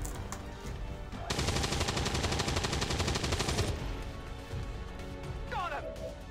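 Rapid gunfire from a shooting video game, a dense burst of automatic shots running for a couple of seconds at steady loudness before tapering, with faint talk around it.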